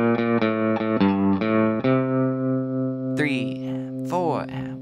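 Electric guitar playing a song's solo with alternate picking, sustained notes ringing out with effects and distortion, steady and close, a few sliding bends near the end.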